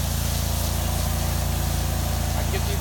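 A pressure washer sprays in a sideways fan pattern near a ceiling, giving a loud, steady hiss over a constant low pump drone that never lets up.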